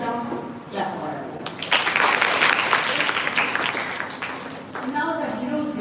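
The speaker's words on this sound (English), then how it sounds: "Everybody has performed well in this round. Clap for them." An audience claps for quiz teams at a school inter-house quiz competition, a dense burst of applause lasting a few seconds, with a voice talking before and after it.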